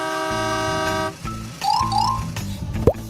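Truck horn sound effect: a sustained, loud multi-tone horn blast lasting about a second, then shorter honks and a rising electronic toot, with no talking.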